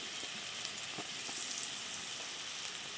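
Chopped onions fry in a pan, a steady soft sizzle with a few faint stirring clicks, heard alone.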